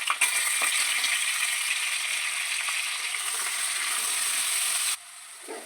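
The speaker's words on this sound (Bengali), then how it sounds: "আলুগুলো ভেজে নেবো নুন হলুদ দিয়ে।" Potatoes seasoned with salt and turmeric fry in oil in a kadai, producing a loud, steady sizzle with faint clicks that stops sharply near the end.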